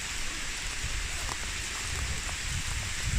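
Autumn rain falling steadily, a soft continuous patter and hiss of drops, fairly quiet and even throughout, with no talking.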